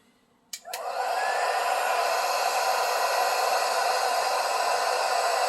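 A heat gun clicks on and blows a steady, loud hissing rush of air to melt solder during a repair on an 05 1500 truck. It holds constant after a brief start-up click, with no talk.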